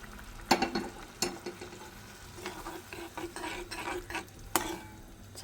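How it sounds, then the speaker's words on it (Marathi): Spoon stirring boiled moth beans (matki) into roasted masala in a pan, with scattered scraping clinks and a soft sizzle, close and fairly quiet, no talk. "ढवळून घ्या आणि 5 मिनिटं शिजू द्या। मध्ये मध्ये असं हलवत राहा।"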